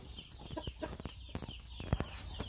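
Chickens cluck and stir close by around an automatic zero-waste poultry feeder being set in place, short scattered clucks and shuffling with one sharp louder knock near the end.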